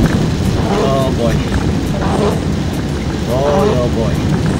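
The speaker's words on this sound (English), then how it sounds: "Man, the downpour is so heavy." Heavy rain pours down on a moving car in a downpour, a loud, dense, continuous hiss and drumming over low road rumble, with faint voices under it.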